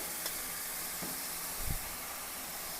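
Crushed onion for a crab gravy sizzles in a hot pan, a steady soft hiss of frying with a few faint clinks and a stir, heard alone without talk.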